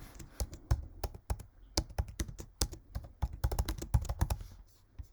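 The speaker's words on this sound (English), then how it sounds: "I'm going to type out all the Smore sayings" Rapid, irregular clacking of fingers typing on a computer keyboard, close and fairly quiet, with short bursts of keystrokes and brief pauses and no talk.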